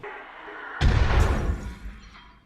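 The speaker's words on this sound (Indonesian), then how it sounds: "Mendengar suara tembakan dari kamar Eric" A single sharp gunshot bursts out loud and close, then its echo rolls off and fades over a couple of seconds.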